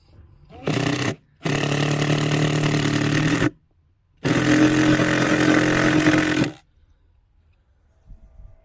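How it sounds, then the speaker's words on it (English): A cordless power driver drives a screw into a container while a fruit tree is transplanted, sounding in three loud buzzing bursts of whirring motor noise separated by short pauses, close by. "So I shall start to screw this in."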